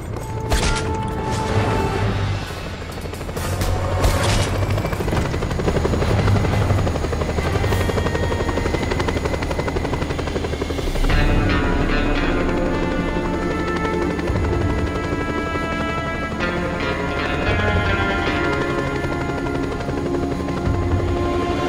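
Helicopter rotor thumping continuously from a Just Cause 2 game on PS3, a loud, steady whirring drone with mechanical buzz layered over it for the whole stretch, with no talking.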